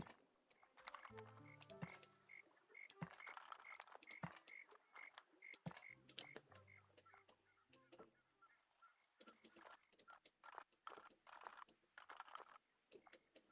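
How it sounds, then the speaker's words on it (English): Frogs croaking in the cozy building game Tiny Glade, a steady chorus of repeated croaks and chirps scattered across the whole stretch with soft clicky textures underneath, no talking. "Those frog sounds drive you insane."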